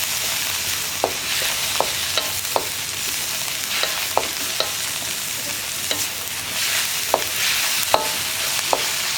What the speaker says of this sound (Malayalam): ഈ സോസുകളൊന്ന് കുക്കായി വരാനായിട്ട് വീണ്ടും ഇളക്കി കൊടുക്കുക